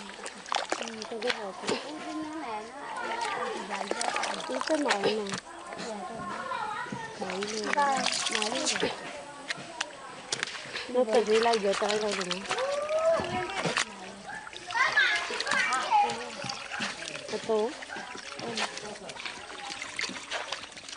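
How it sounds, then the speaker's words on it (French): Sago pulp mixed with water and wrung out by hand in a Korowai setting, giving repeated trickles, splashes and dribbling water throughout. A voice talks over the watery sounds much of the time. "Le sagou est mélangé à de l'eau, puis essoré à la main."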